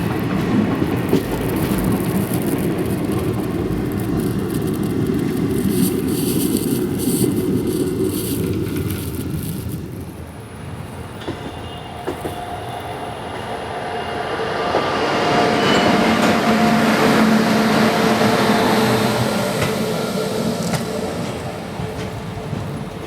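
An old coach on the Vasco da Gama Tirupati Express rumbles loudly and continuously along the track, with rattling and wheel noise that eases briefly and then swells again, without talk.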